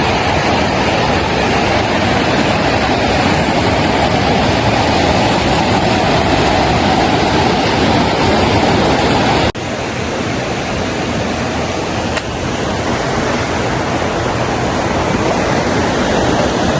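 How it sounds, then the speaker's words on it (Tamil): Water of the Mahaweli river in Sri Lanka rushes over broad rocks in a loud, unbroken roar that fills the whole stretch, steady and close with no voices. "எந்த பக்கம் பார்த்தாலும் அப்படியே தண்ணி வடிஞ்சு ஓடுதோ"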